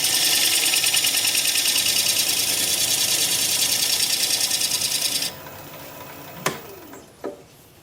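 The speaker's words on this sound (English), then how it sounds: "I'm going to take my homemade point tool and delineate a little line between the finished part of the bowl" A wood lathe spins a laurel bowl as a homemade point tool cuts a groove, a fast rhythmic whirring hum that stops abruptly, followed by a couple of sharp knocks and a short scrape, close by.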